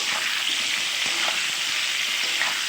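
Jackfruit pieces seasoned with salt and turmeric frying in a pan, a loud, steady sizzle throughout with faint scrapes of stirring beneath it.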